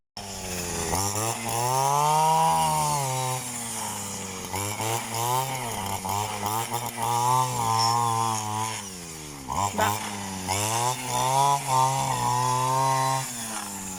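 A grass cutter (brush cutter) two-stroke engine runs loudly and steadily, its pitch rising and falling as the throttle is revved; the engine is faulty and keeps failing to stay running.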